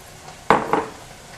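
Strips of three jalapeños drop into a pan of cooking mollejas, a sudden metallic clatter followed by a second softer knock, then a faint background hiss.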